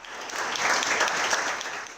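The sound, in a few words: audience applause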